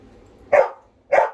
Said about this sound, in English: there may be some barking in the background